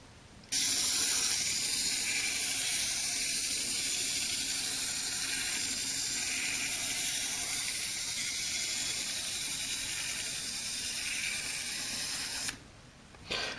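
A 1988 motorized G.I. Joe Action Pack radar dish toy rotating: a continuous whirring, buzzing small motor drone runs steadily for about twelve seconds, then cuts off with a brief restart at the end.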